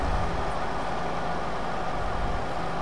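A tractor engine in Farming Simulator 2015 drones steadily and loudly as it labours up a slope, a dense continuous rumble with no pauses and no voices.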